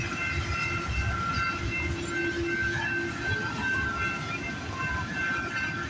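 A CPKC freight train rolls steadily past at close range, a loud continuous rumble of wheels and rail cars with a constant clatter throughout and no pause.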